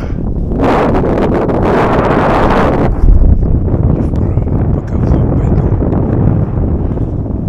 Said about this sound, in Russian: Тут ветер такой на перевале.